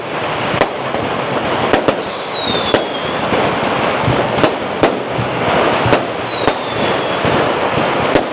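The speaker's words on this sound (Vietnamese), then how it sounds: "Kiệu đi đến đâu thì người dân đốt pháo đến đó." Firecrackers set off by villagers as a festival palanquin procession passes, a loud series of sharp cracks and bangs in irregular bursts over crowd bustle, with whistling streaks between some blasts.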